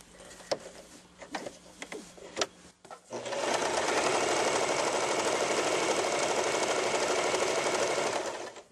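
An Elna Sewing Fun sewing machine makes a few clicks and taps, then runs a fast, steady stitching whir for about five seconds close up.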